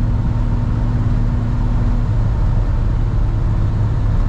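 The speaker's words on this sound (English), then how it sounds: "That 383 is just sounding really, really nice, especially out of that those exhaust tips in the back." Exhaust rumble of a 1955 Chevrolet 210 with a 383 engine and headers, a steady loud low drone with a constant idle pulse heard from close by.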